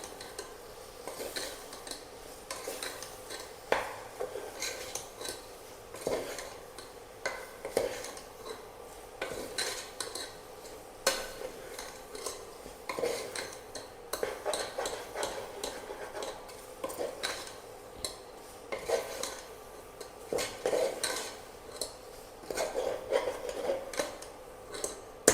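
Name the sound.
stirring cooked soya chunks into curry in pan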